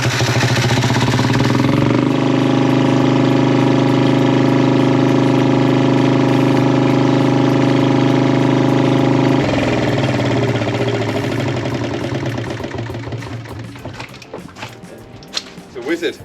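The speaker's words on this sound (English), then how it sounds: "We'll look for the gen set" A boat's generator set engine runs loud and steady, its low harmonic hum constant, shifting tone partway through and then fading out over the last few seconds.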